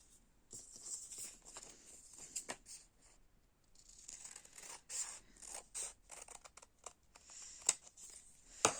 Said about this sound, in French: Donc je coupe ici